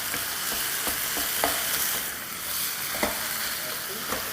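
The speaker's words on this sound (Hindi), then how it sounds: "बस कीमे को थोड़ा थोड़ा ब्रेक करते जाएंगे और कलर चेंज होगा जब तक इसको भुनाई कर" Minced meat (keema) sizzles steadily in a hot pan while a utensil stirs and breaks it up. Soft scraping taps recur over the constant frying hiss, fairly quiet and close.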